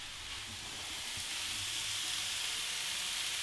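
Mushrooms fry in a pan in a home kitchen, giving a steady, loud, broadband sizzle that holds evenly throughout with no talking.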